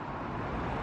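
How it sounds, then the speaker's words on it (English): Road traffic rumbles along Foswell Road in Coventry, a steady broadband wash of passing vehicles with no distinct pass-bys and no talking. "You can hear all the traffic"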